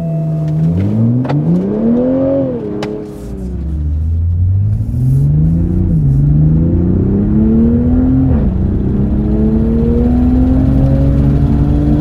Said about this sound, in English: You get the loud, low, throaty note, and it snaps, crackles, and pops when you release the gas.